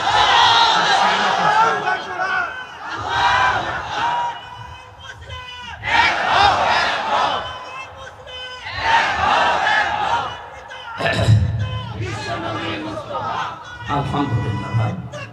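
A large crowd at a Bangladeshi Islamic rally chants together in loud, rhythmic unison, answering a takbir call in repeated surging waves of massed voices.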